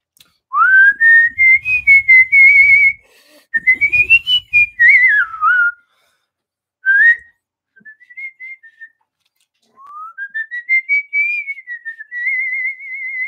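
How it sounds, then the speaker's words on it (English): Someone whistles out of the side of the mouth, a wandering, sliding tune in several phrases with pauses between, clear and close, the pitch swooping up and down. "that's a new way of whistling that I invented out of the side of your mouth"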